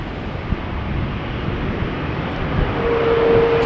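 KLM Boeing 777-200 airliner at Amsterdam Schiphol Airport, a steady broad jet roar with wind buffeting, building slightly louder toward the end, with no talking.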